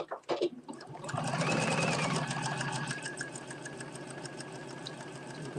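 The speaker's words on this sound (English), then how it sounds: "changing the stitch back to a narrow zigzag stitch, because we definitely don't want to do this in a basting stitch." A sewing machine runs a narrow zigzag stitch on a Simplicity 9372 garment, giving a steady, close mechanical whirr with a fast even needle rhythm for several seconds after a few brief clunks at the start.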